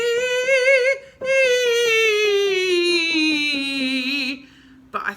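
A solo voice sings a slow, steady chromatic scale, stepping down in pitch note by note with sustained tones and a brief pause near the start, clear and close.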